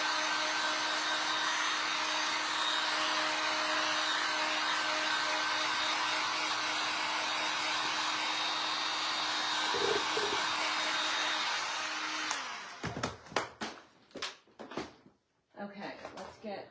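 A hair dryer blows with a steady, loud whoosh for about twelve seconds while paint dries on a handmade designer hat box. It then cuts off, followed by clattering handling noises and a voice.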